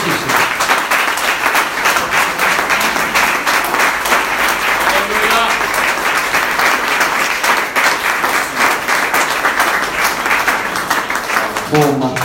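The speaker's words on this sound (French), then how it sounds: "Si vous êtes content, applaudissez le Seigneur." Church congregation applauding the Lord during a French-language service, steady rhythmic clapping throughout with voices calling out and a speaker heard over the applause.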